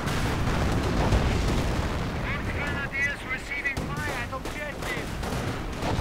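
Heavy gunfire and shelling in a World War II real-time strategy battle with riflemen, Rangers, an Osman and a Panzer IV, steady dense shots and booms under someone commentating.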